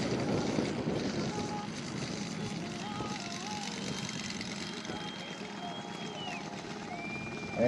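A 1/4-scale radio-controlled model airplane with an 80-inch wingspan and a Sato 180 engine, built from a Balsa USA kit, drones steadily at a moderate distance over a grass runway for several seconds, with an announcer talking over it.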